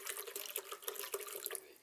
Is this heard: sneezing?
no